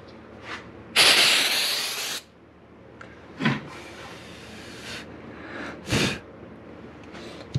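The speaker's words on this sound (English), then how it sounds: "So quick spray." A spray can gives one sharp, loud hiss of about a second while a guitar neck is being fretted. Quieter scraping and rubbing sounds from the workbench follow in scattered bursts.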